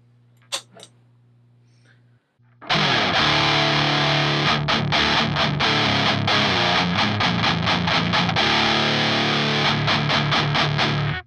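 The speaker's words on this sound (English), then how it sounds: "Alright, now we're gonna engage the pedal." An electric guitar played through a Pro Co RAT distortion pedal in a metal style: after a few faint plucks and near silence, loud, thick, saturated riffing bursts in and continues with choppy palm-muted stops.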